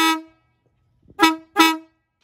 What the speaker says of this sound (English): we're gonna give it a test blow. All right, we got our air horn installed.